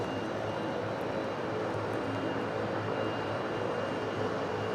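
Airplane touching down at Raleigh-Durham International Airport, a continuous broad engine roar with steady whine, heard from some distance without any talk.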